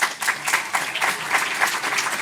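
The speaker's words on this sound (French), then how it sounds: "si vous voulez l'applaudir." Applause from attendees in a conference room during a day on CSR in the dairy industry, a moderately close, lively patter of many hands clapping with an uneven, pulsing rhythm throughout.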